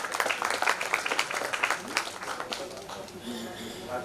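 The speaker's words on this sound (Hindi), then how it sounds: "एक बार बहुत जोरदार तालियां के लिए बजा देते हैं।" An audience in a hall bursts into loud, dense applause that thins out toward the end, with voices talking over the clapping.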